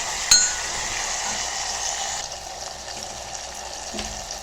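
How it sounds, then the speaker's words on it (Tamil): Chopped amaranth greens go into a pan of sautéed tomatoes: a sharp clink at the start, then a steady sizzle and hiss that fades a little partway through, with no talking. "இப்போது நம்ம இதில் கட் பண்ணி வச்சுருக்கிற கீரையை சேர்த்துக்கலாம்."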